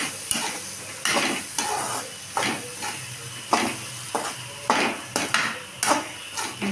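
Carrot and bean poriyal with coconut being stirred in a pan, a spatula scraping and knocking against the metal in irregular strokes over a soft, steady sizzle, close and fairly loud.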